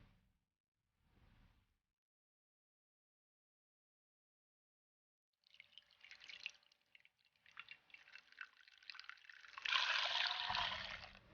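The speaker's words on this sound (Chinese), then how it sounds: "准备一个干净的纱布，过滤出豆渣。" Raw soy milk, blended from soaked soybeans and water, drips and trickles through a clean gauze filter as the okara is strained out; after a quiet start, a steady wet patter and trickle build and grow louder toward the end.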